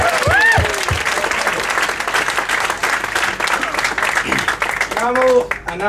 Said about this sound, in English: Just a little round of applause.